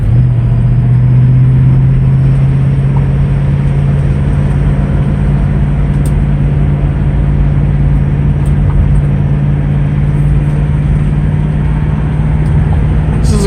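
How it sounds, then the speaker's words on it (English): A 1974 Ford Maverick coupe with a V8 breathing through MagnaFlow mufflers idles close by, a loud, steady low burble with a deep droning hum holding even for the whole stretch. "MagnaFlow mufflers on it. Sound great, not too loud"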